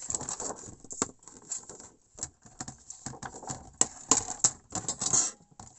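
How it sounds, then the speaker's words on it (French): A paper trimmer (massicot) slices through paper with a series of sharp crisp cutting and clacking sounds, irregular and close, mixed with light handling noise. "Donc, je prends mon massicot."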